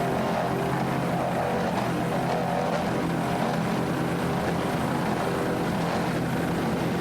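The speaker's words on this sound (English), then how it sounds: "Nice throttling there by Wyatt Fountain." A 38-foot Fountain powerboat engine roars steadily and loudly throughout, a dense broadband drone with no talk over it.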